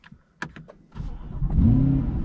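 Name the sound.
Chevrolet C8 Corvette being turned on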